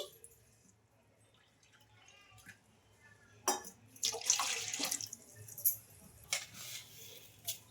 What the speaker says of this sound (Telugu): ఒక బౌల్ పెట్టుకొని అందులోకి కప్పున్నర వాటర్ అయితే వేసుకోవాలి